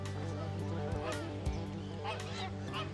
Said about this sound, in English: Because they have long legs, they can wade much deeper into water than most other birds.